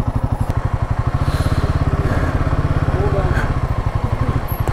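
A motorcycle rides over black ice on a long mountain trip, its engine thumping in a steady, loud, close rhythm from start to finish, with talk over it.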